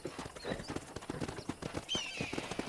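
A horse's hooves clip-clop in a quick, even rhythm in the video game Red Dead Redemption 2, close and clear, with a brief higher tone near the end.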